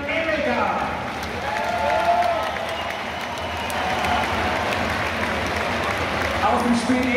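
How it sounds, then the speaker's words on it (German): Sustained applause from a large stadium crowd at an Austrian Bundesliga football match, a dense wash of clapping with cheering mixed in, steady and loud throughout. "Euer Applaus"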